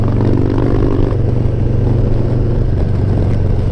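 A Harley-Davidson motorcycle engine rumbles steadily and loudly at close range, a deep continuous drone with wind noise, as if heard while riding.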